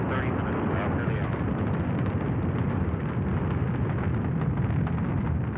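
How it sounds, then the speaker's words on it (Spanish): A rocket ignites and lifts off with a loud, sustained roar that holds steady throughout, harsh and rumbling like a continuous blast, with no voices. "5, 4, 3, 2, 1, 0. Ignition. Liftoff."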